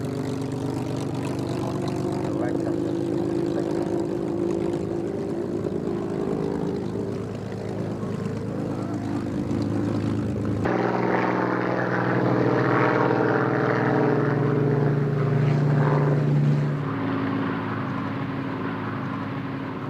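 A propeller aircraft flies at a British airshow, its engine drone loud and steady for the whole stretch, with the pitch and tone shifting partway through as it passes, and no voices over it.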